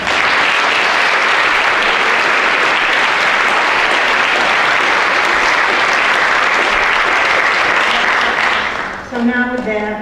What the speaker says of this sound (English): So please, can you just applaud them again?